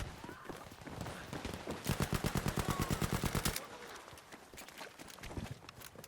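Rapid burst of automatic Sten gunfire in the shooter game Battlefield V, a fast even stutter of shots lasting under two seconds amid rumbling in-game ambience.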